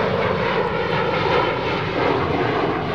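Airplane engines roar continuously at Chicago O'Hare airport, a loud, steady broadband drone with no breaks or voices, filling the whole stretch.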